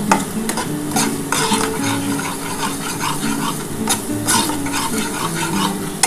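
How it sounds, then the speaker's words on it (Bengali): Masala spices sizzle and fry in a pan for egg poach curry while a spoon stirs and scrapes them steadily, giving close, continuous crackling and scraping with no talking. "দেখো আমার মশলাটা কিন্তু মোটামুটি কষানো কমপ্লিট হয়ে গেছে।"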